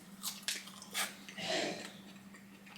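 Crunchy bites of fried Dave's Hot Chicken come close up, a few sharp crackling bites followed by softer chewing.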